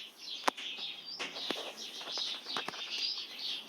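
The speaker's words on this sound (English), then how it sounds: "Those better be birds." Birds chirp and flutter close by near a pomegranate tree outdoors, short sharp tweets and wing flaps scattered irregularly over a hissy background.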